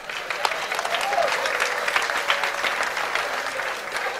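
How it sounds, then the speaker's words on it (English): An audience in a hall breaks into sustained applause, many hands clapping in a dense, steady patter at moderate loudness, continuing evenly throughout. "Clap."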